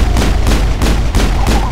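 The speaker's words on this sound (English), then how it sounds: "Why are you shooting me, Rex?" Loud, close gunfire from the video game Mass Effect hits the player in heavy repeated bursts, roughly four booming volleys in quick succession with no talking.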